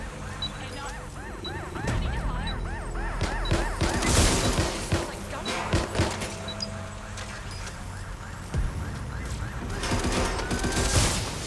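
Gunfire in the Watch Dogs Legion video game: repeated sharp shots and crashes ring out amid game sounds, with a warbling siren-like tone early on and game voices speaking over it.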